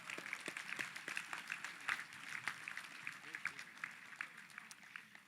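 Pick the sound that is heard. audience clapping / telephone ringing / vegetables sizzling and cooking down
audience clapping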